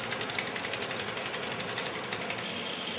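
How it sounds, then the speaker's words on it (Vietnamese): Rotary drilling rig boring cast-in-place concrete piles at a road bridge repair site, working on the middle piers and stone embankment by the abutments; a steady, loud, dense mechanical grinding and clatter continues throughout without a break. "đang triển khai kỹ thuật khoan nhồi cọc bê tông ở hai trụ giữa và kè đá hai bên mố cầu"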